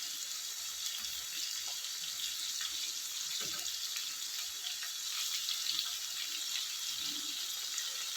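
Bitter gourd frying crisp in oil in a pan, Andhra home style, with a constant close hissing sizzle and a few faint stirring scrapes underneath.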